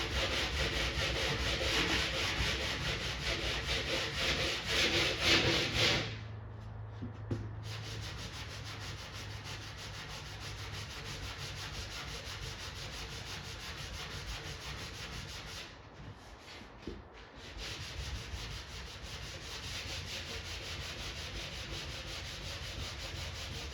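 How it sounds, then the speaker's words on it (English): Steady hand sanding on the bodywork of a Kick Man arcade cabinet, a continuous abrasive rubbing close by that pauses briefly twice, with no talking. "I'm gonna keep sanding here"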